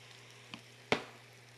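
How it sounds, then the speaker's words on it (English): Pork tenderloin pieces hitting a hot skillet, giving a faint short sizzle burst followed by a sharper, louder crackle near the end, with a steady low hum underneath. "Hear that sizzle? That's what you want."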